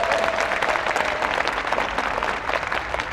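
Audience at a parliamentary audit hearing claps steadily and densely for about three seconds, a loud sustained wash of applause with no voices over it.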